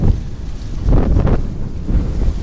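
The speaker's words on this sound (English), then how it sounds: "I apologize for the wind" Loud wind buffets the microphone in low, rumbling gusts that swell and fade, with no other sounds coming through.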